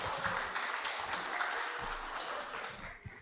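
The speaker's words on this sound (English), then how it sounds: "So give a big applause" Broadband applause from an academic conference audience fills the room, a sustained even wash of many hands clapping at moderate distance, fairly faint and with no talk over it.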